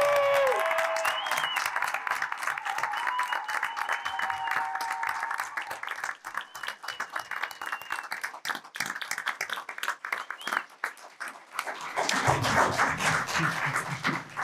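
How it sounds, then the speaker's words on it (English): A round of applause at a school board meeting, many hands clapping steadily in a room, thinning briefly before a louder burst of clapping near the end, with a few faint voices. "I would like to do one more round of applause for her"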